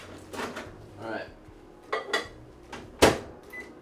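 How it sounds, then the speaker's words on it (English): Butter for a keto cheesecake crust is put into a microwave oven, with a few sharp clinks of a dish and clunks of the oven door and handling at close range, spaced apart, alongside light kitchen background. "I'm going to throw it in the microwave and melt it away."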